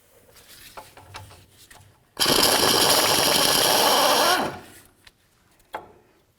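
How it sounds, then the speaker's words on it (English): A power tool, likely an impact wrench, spins off a brake caliper mounting bolt on a 2007-or-later Toyota Tundra, one loud steady burst of about two seconds, with quieter clinks before and after. "I'm going to remove this mounting bolt right here"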